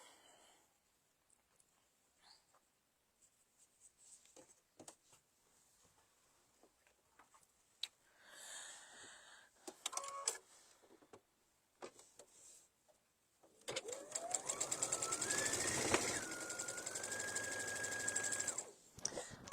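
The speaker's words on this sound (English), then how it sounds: "we're going to stitch them right sides together" A domestic sewing machine stitches trapezoid fabric pieces for a reversible bucket hat, a quiet whirring run beginning near the end after scattered soft clicks and handling noises.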